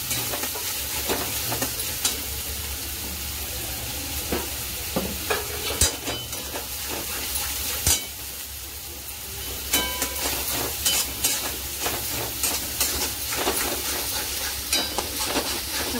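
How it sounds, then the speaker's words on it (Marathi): Masala fries in oil in a pan, a steady soft sizzle running throughout, broken by scattered clicks and scrapes from stirring with a spoon, close and moderately quiet, with no one speaking. "आता मसाला आपण या तेलामध्ये मस्त तेल सुटेपर्यंत फ्राय करून घ्यायचा आहे।"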